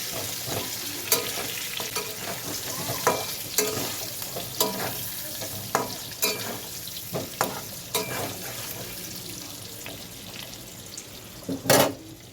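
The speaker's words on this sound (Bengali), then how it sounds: "এবার আলুগুলো ভাজবো আলুগুলো একটু ভেজে নিই সুন্দর করে" Potatoes frying in hot oil in a pan for home-made biryani, with a steady crackling sizzle and intermittent scraping stirs from a spatula, and a louder clatter near the end.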